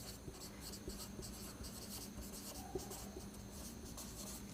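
Handwriting the chemical name cyclobutadiene in Bengali during a chemistry lesson, a steady scratching of pen or chalk strokes with small rhythmic bursts, close and fairly quiet, continuing throughout with no talk.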